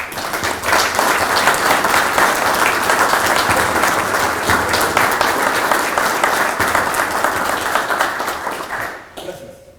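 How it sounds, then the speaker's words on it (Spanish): A large audience applauds to welcome guests at a tribute to Peru's armed forces, the clapping swelling quickly, holding steady, then tapering off near the end. "lo recibimos con un fuerte aplauso"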